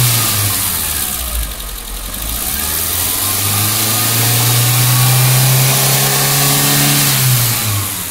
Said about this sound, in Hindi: गाड़ी को बंद कर दीजिए, फिर एक बार रेस कीजिए।